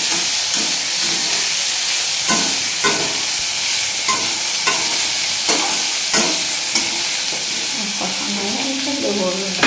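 Ginger and green chili paste sautéing in a pan for a rohu fish curry, a steady loud sizzle and hiss with repeated scraping stirs at irregular intervals throughout.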